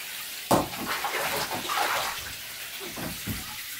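Water pours from a toy shower into a bathtub, splashing and running steadily throughout, with a sharp splash near the start and a few brief bursts later; a child bathing in a home tub.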